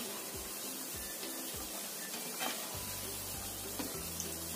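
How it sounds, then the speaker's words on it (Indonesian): Cookie dough fries in hot oil in a pan, a steady close sizzle with faint stirring and light clinking, no voices. "Goreng semuanya penggorengan aja."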